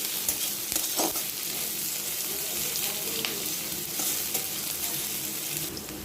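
Onions fry in hot oil with cardamom, cinnamon and a bay leaf, giving a steady, close hiss of sizzling with a few soft stirring scrapes and no voices.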